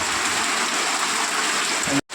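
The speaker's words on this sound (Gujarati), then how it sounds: "ખાસો પડી ગયો વરસાદ." Heavy rain pours down in a steady, dense hiss with no letup, then cuts off abruptly at the end.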